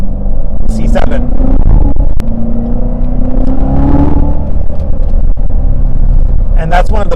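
A manual Chevrolet Corvette C7 Z06 with a supercharged engine accelerates from inside the car: a loud, steady engine drone whose pitch climbs under acceleration, with a voice talking over it throughout.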